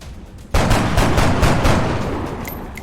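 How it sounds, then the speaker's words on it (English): Gunfire in the video game XCOM Enemy Unknown: a loud burst of rapid shots opens abruptly and rattles on for over two seconds before tapering off, with no talk over it. "That was quite the fail shot there."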